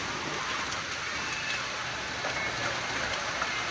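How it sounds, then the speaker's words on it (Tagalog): Steady rain falling outdoors, a dense, even patter on surfaces at moderate distance, with no voices. "Umuulan na naman."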